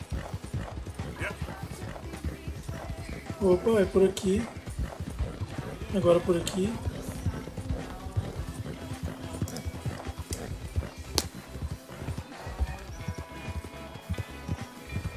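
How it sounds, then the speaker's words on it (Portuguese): Rapid hoofbeats clip-clop steadily as a horse gallops in Red Dead Redemption 2, with someone talking over it in Portuguese and occasional snorts. "Vou botar esse cavalo para correr aqui."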